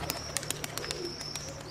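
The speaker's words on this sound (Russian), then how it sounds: "Хороший голубенок." Young pigeons give soft coos and short chirps close up, with quick, irregular clicking and fluttering sounds scattered through the moment.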